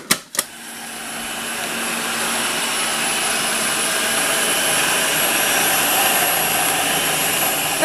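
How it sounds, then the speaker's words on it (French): A blender grinds peanuts into peanut butter, starting with a couple of sharp clicks and then holding a loud, steady, high whirring roar that stays close and constant throughout. "j'ai tout versé dedans et je vais mixer."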